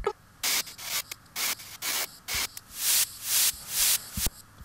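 Fizzy, hissing shwa-shwa bursts from a music production drum loop sample, rhythmic bright noise swells that start and stop in a regular pattern, some growing longer and louder toward the end, alone with no talk.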